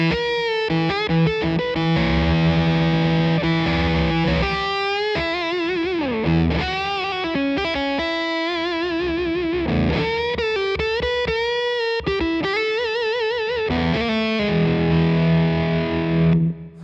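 Distorted electric guitar on a neck pickup tone playing chords and melodic lines with a warm, rounded woman tone, loud and continuous with no talking.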